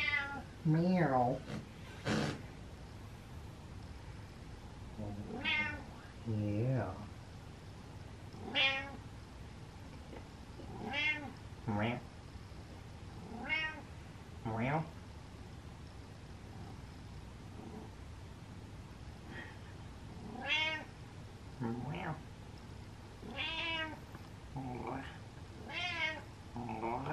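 A cat meows and yowls repeatedly, loud and close, in drawn-out rising and falling cries with short gaps between them. A person talks softly in between over a faint background hum.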